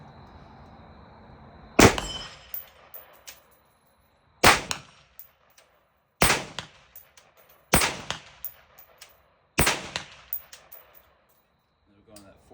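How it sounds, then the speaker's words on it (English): Semi-automatic single shots from an AR rifle fitted with an Atrius trigger in a PSA lower: five loud, sharp cracks spaced a couple of seconds apart outdoors, each trailing off with echoes and clinking brass. "Do some single shots here."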